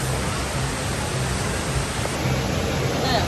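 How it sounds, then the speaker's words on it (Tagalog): A famous waterfall in Dubai pours with a steady, dense roar of falling water that fills the whole moment without a break. "Famous waterfalls."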